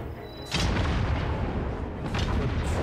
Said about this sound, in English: Come on, cannon. Command the cannon!